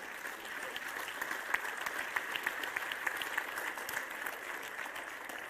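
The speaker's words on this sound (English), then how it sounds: "Come on, give it an applause," Audience at a European plenary conference on the social economy claps steadily, a dense patter of many hands with a few sharper individual claps, heard at a moderate distance and fairly soft.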